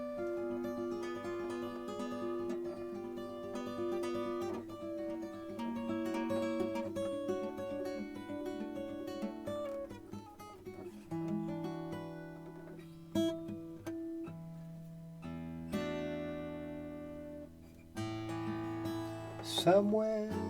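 A solo jazz fingerstyle guitar arrangement plays close and clear, with sustained chords, melodic lines and ringing notes at a moderate, unhurried pace, with no voices.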